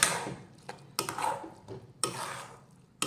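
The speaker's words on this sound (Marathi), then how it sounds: "सतत हलवत राहायचे हे" A utensil scrapes and knocks against a pan as a coconut and jaggery barfi mixture is stirred over low heat, three or four close scraping strokes in an uneven rhythm.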